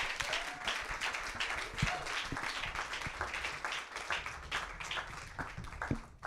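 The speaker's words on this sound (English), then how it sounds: "Another round of applause for our Team Blue." Steady, sustained applause from a conference audience for a presenting team at a sustainable transport event, many hands clapping in a dense, even wash at moderate level throughout.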